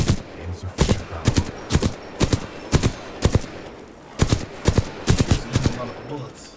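Bursts of gunfire from Titanfall 2, sharp repeated shots in clustered volleys with short pauses between them, loud and close over a low game background.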